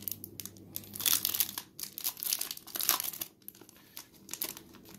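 Bundled Warhammer 40K Speed Freeks vehicle data cards being unwrapped, close crinkling and tearing of plastic wrap in quick bursts with short pauses between, crisp and near.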